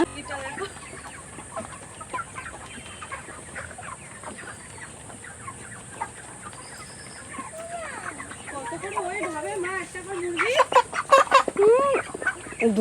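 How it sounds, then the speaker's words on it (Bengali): Chickens on a poultry farm holding about 1260 birds, clucking and squawking from many directions, busiest and loudest toward the end, with people talking in the background. "সব বড় হয়ে গেছে মুরগিগুলো।"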